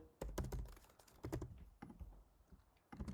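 Keys clatter on a computer keyboard in quick close bursts of typing, broken by short pauses, quiet and with no voice.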